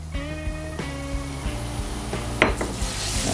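Seven garlic cloves going into extra virgin olive oil in a skillet for a plant-based tomato mushroom pasta, giving a steady close sizzle with light clinks and stirring knocks against the pan, no voices.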